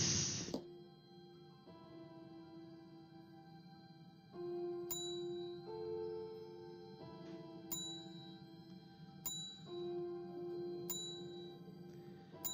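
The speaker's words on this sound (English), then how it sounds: "I'm gonna just hit the bell a lot." A hotel reception bell in the video game Dark Fall: Lost Souls is struck over and over, each bright metallic ding ringing out clearly at irregular intervals over a low ambient game drone.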